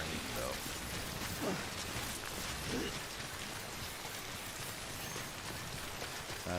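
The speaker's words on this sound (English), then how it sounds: "Heavy ass rain though." Heavy rain in Death Stranding, a steady dense hiss of downpour holding at an even level throughout, with a few faint mechanical clicks and pops underneath.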